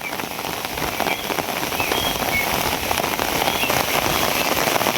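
Dense, loud rain pouring steadily onto surfaces, a constant hiss and patter that grows slightly heavier and never lets up.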